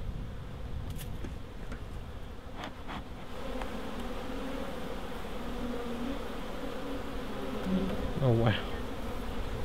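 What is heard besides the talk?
honey bee swarm buzzing in a hive box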